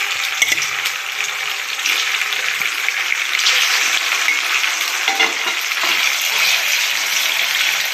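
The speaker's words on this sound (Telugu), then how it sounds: "ఈ ఉడికించుకున్న వాటిని స్టవ్ వెలిగించి కళాయి పెట్టుకొని 100 గ్రాములు ఆయిల్ పోసుకొని వాటిలో ఫ్రై చేసుకోవాలి." Boiled prawns fry in about 100 grams of oil in a kadai for Guntur-style prawn pickle, a loud, dense, continuous hiss and crackle of hot oil, close up with faint clinks and no voices.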